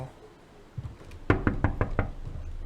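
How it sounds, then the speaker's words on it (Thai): Six quick, sharp knocks on glass in the video game Eleutheromania, evenly spaced and crisp, after a couple of softer taps. "อ่าเคาะเคาะกระจก"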